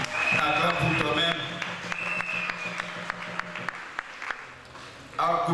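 A church congregation claps and cheers at a morning service, a dense, sustained burst of applause with sharp hand claps and voices mixed in, fading briefly before swelling again at the end.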